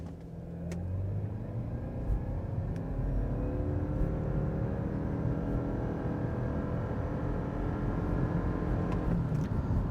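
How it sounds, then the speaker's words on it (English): A 2025 Subaru Forester Hybrid Limited SUV in sport mode holds its engine at rising revs before a launch, a steady close drone with a slow build in intensity and no talk. "It's still in sport mode. Let the revs build up."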